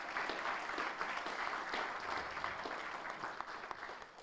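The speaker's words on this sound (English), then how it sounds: "Huge round of applause to the panel" At a college tour event at Farnborough College of Technology, an audience gives a panel a sustained round of applause, many hands clapping in a dense, even patter that holds steady and eases slightly toward the end.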